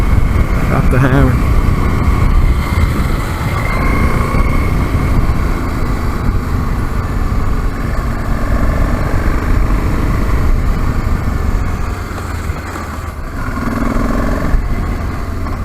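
A BMW F650GS dual sport motorcycle accelerates hard over rough ground, a loud, continuous engine roar with wind buffeting, rising and falling through gears close by, with a voice speaking over it.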